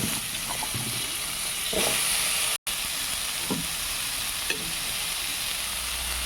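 Squash hits a hot pan and sets off a loud, continuous hiss and sizzle, with a few clinks of a utensil against the pan and a brief dropout partway through.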